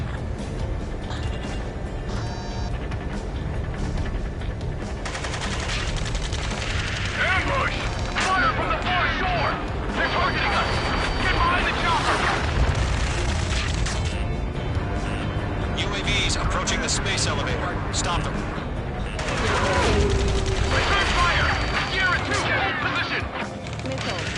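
Missile launches and explosions from the Ace Combat 7 flight combat game rumble and crack in dense, continuous bursts, mixed with mechanical clatter and game radio chatter throughout.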